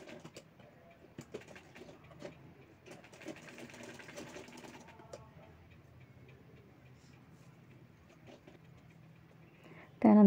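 A sewing machine stitches piping onto fabric in quiet, rapid ticking runs that start and stop, close by in a calm room, with a louder bump at the very end.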